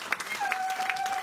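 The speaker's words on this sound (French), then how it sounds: "Oh, donnons une acclamation" A church congregation gives brief, faint applause that washes across the room, with a thin sustained whistling tone running through it.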